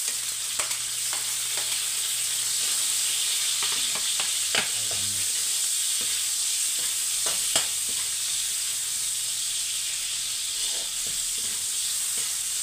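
Onions sautéing in a pan after garlic has turned golden brown, a steady close sizzle running throughout with scattered clicks and scrapes of stirring, no voices.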